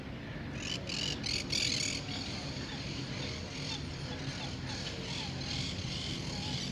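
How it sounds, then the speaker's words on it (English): Water birds call across an open city park in Córdoba, Argentina, with honking, goose-like cries and chirps carrying over a steady outdoor wash of ambience at moderate distance. "They're birds that swim on the water."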